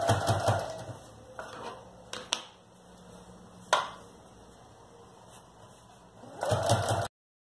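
A sewing machine stitches a backpack lining seam in two short, rapid runs at the start and end, with scattered clicks and knocks of handling in the quiet gap between.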